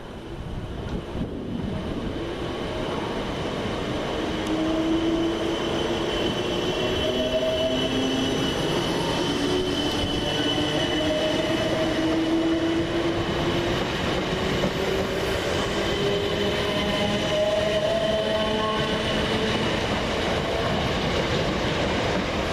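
South Western Railway class 455 electric multiple units 455-864 and 455-858 depart Surbiton station on the London Waterloo to Woking service, a loud, steady rolling rumble with rising motor whines and wheel squeals throughout.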